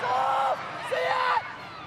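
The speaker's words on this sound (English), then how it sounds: "Crowd encouraging Jamie Young to shoot." A football crowd at an A-League match between Brisbane Roar and Macarthur roars in two rising swells, urging a player to shoot, heard as a distant mass of voices.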